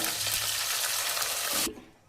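Ground masala paste for a fish curry frying in a pan, a loud, dense hiss of sizzling that cuts off sharply near the end, leaving quieter background.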